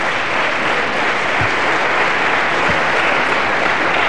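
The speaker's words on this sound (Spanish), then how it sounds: "cuando concluyan los aplausos dirigidos contra el Partido Popular, reanudo el debate" Studio audience applause during a Spanish TV debate show, a dense continuous roar of many hands clapping, loud and sustained with no talk over it.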